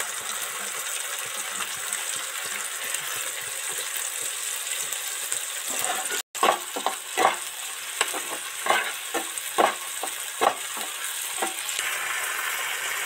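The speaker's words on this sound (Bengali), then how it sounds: "এই টমেটোর গ্রেট করা টমেটোটা এর মধ্যে অ্যাড করছি।" Grated tomato is tipped into onions frying in hot oil for an egg chilli, giving a steady loud sizzle with repeated scraping and stirring strokes in the second half.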